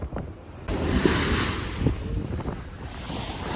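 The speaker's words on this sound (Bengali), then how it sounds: "ক্যামেরা বন্ধ করলেই বড় বড় ঢেউগুলো আসে।" Big waves on the Padma River in monsoon season rush and wash continuously with a broad roar, wind buffeting the microphone throughout; no voices.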